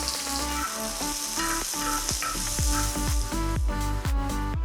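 One large finely chopped onion frying in hot oil in a non-stick pan, a loud steady sizzle close by with repeated stirring scrapes through it.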